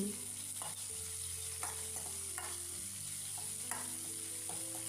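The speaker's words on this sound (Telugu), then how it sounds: "మీడియం సైజ్గా కట్ చేసిన ఎర్రగడ్డలు పొట్టు తీసుకున్న తెల్లగడ్డలు ఒక రెమ్మ కరివేపాకు వేసుకుని ఫ్రై చేసుకోవాలండి" Onions, garlic and curry leaves fry in a pan with a soft steady sizzle, punctuated by quiet scrapes of stirring over a low background hum.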